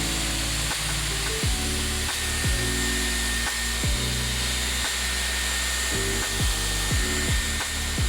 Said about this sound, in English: once you have it curled, whatever, for a couple of seconds, you're going to do a cold shot